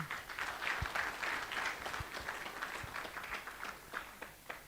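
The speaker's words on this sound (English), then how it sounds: "Please give yourselves a round of applause." Audience applause at a launch ceremony, a fairly faint, steady patter of many hands clapping that holds throughout and softens slightly at the end.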